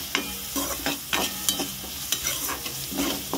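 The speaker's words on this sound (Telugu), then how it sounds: "కొంచెం వేగాలి, కొంచెం కలుపుకోవాలి." Chicken curry ingredients stirred and fried in a pan, with a steady sizzle under repeated scraping strokes of a spoon roughly every half second, close and moderately loud.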